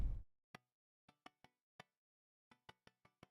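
Sparse, sharp percussive hits land at irregular intervals, each a short clicky burst with a dry tail, after a brief low thump at the start; a keyboard synth voice gated so it sounds only on the drum hits, otherwise silent.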